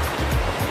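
River dividing barangays in a rural Philippine village, flowing with a steady, close rushing wash and low churning turbulence that fills the short clip without any voices.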